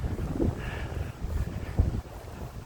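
Wind buffets a microphone outdoors with low rumbling gusts and a couple of stronger thumps, steady and close, with no talking.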